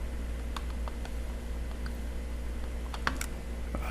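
Light, quick keystrokes on a computer keyboard while working in Excel, with scattered soft clicks over a low steady hum, close and fairly quiet, no talking.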